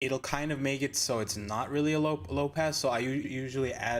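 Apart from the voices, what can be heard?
No distinct noise like a dog, phone or traffic.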